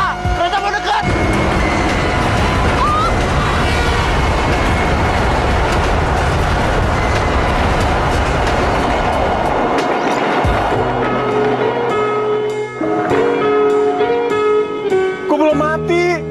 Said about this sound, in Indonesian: Kereta mau dekat.